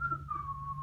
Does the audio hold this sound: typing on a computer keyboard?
no